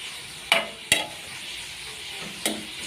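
Onions frying in oil with turmeric, a steady soft sizzle underneath a few sharp spoon or spatula clacks against the pan, close and without talk.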